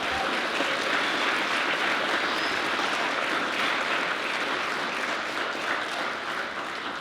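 An audience at a nurse pinning ceremony claps and cheers for a faculty member, a dense, continuous roll of applause that fills the room and tapers only slightly toward the end.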